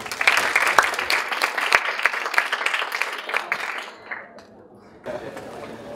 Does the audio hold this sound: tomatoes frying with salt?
no